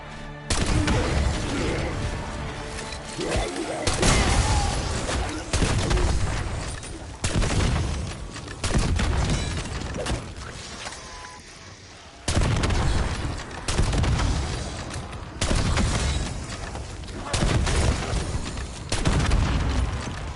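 Gunfire blasts from the video game Black Ops 6 Zombies, with repeated bursts of loud shots and booming impacts in clusters separated by brief gaps, dense and close throughout.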